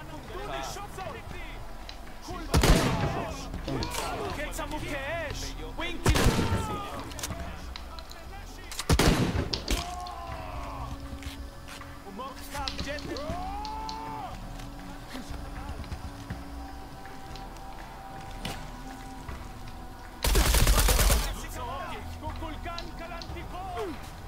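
Gunfire rings out in Shadow of the Tomb Raider as four loud, separated bursts of shots punctuate a quieter game soundscape, with a person talking in between.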